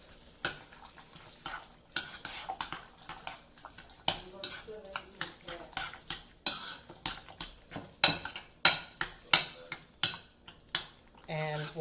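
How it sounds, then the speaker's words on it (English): Spoon stirring Dorito chicken mixed with cream soup in a dish, a run of repeated scraping and clinking strokes against the dish that grow louder and sharper toward the end. "And you just mix all that together"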